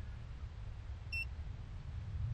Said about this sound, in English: you can hear it beeping now. It will beep really loud, 105 decibels